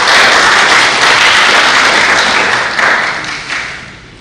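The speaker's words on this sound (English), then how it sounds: "So one more time, clap for her" A crowd at a youth public speaking competition in Timor-Leste claps for a speaker, loud and sustained close-up applause that gradually fades in the final second.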